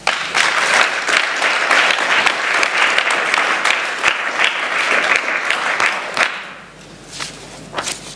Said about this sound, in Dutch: Dan krijg je dit nog van mij en nog 1 keer een applaus.